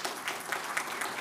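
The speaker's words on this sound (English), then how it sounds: "I'd like all of you to give a round of applause to Engineer Joseph Lo." Applause from an audience at an opening and launch ceremony for a construction industry council training programme and achievement award, a brief dense patter of many hands clapping, steady and fairly near with no voices over it.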